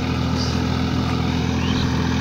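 A Swaraj 744 4x4 tractor runs steadily nearby, its diesel engine a constant loud drone with a strong low hum and no pauses, alone without speech.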